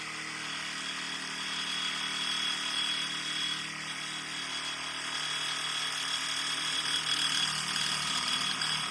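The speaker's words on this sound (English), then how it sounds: "I don't always like resorting to using a Sawzall, but that's what we have." A Sawzall reciprocating saw cuts through a car body during a Firebird build, making a steady, buzzing mechanical whine that holds at moderate loudness with a faint rattle and no talking.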